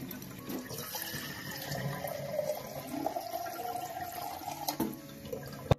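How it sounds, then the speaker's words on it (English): Water pours into a glass jam jar, a close, continuous splashing and trickling stream whose pitch shifts as the jar fills, ending with a few faint clinks. "take a jam jar and fill it with a little bit of water."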